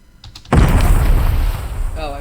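A ship's cannon fires in the Minecraft Small Ships mod: a sudden loud boom after a few faint clicks, with a rumbling tail that slowly fades.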